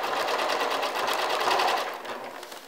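A sewing machine stitches a waist stay on a 1910s-style camisole, a fast, even mechanical chatter running steadily up close before easing off at the end.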